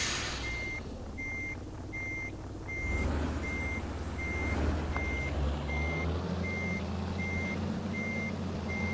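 Renault Major truck in Euro Truck Simulator 2 reversing a trailer, with a steady, evenly spaced reversing beeper over a loud diesel engine rumble that swells partway through, plus a brief air-brake hiss.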